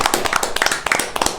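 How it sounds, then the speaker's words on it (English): A small group claps for a podcast guest, a short burst of quick, close, uneven hand claps with little ambience. "So let's give a round of applause for Andrew Bennett."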